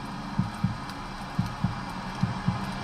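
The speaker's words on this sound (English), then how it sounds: "You hear that? Little heartbeat." Low thudding heartbeat played back by a car's heartbeat scanner, three paired lub-dub beats at a steady rhythm, soft and close over a faint electronic hum.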